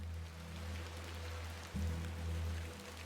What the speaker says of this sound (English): A bit of rain won't kill me, will it?